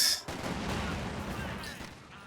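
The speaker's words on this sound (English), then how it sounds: "Let's throw a grenade." A grenade explodes in a real-time strategy game match, a sudden loud blast followed by a sustained rumbling, crackling roll of battle noise that fades slightly over two seconds.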